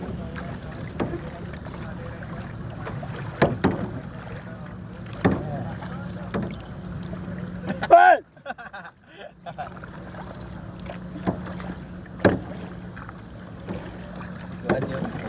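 A bangka boat on the water at El Nido, Palawan, gives off a steady low engine hum under wind buffeting and splashy knocks, with a brief gust that masks the sound midway.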